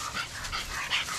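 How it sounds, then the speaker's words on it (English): A small hunting dog on a Texas wild hog hunt gives short yips and whimpers, close and fairly loud in a brief burst, with no talk over it. "You got the monster dog back here."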